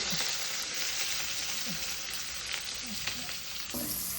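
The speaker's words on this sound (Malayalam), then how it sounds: "നന്നായിട്ടൊന്ന് വഴറ്റി കൊടുക്കാം ഉള്ളി നന്നായിട്ടൊന്ന് വാടട്ടെ" Chopped green chillies, curry leaves and onion sautéing in oil in a pan, a dense continuous close sizzle with occasional stirring scrapes and light clicks, no voices.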